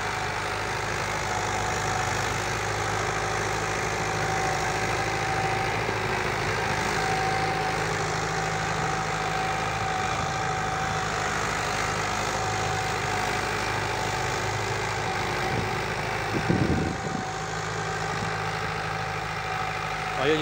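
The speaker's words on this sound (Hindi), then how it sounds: "अब जो इसमें कल्टीवेटर चला रही है।" A Mahindra 575 XP Plus tractor engine drones steadily while pulling a cultivator in a field, a continuous low diesel rumble held at an even load for twenty seconds, with a brief thump near the end.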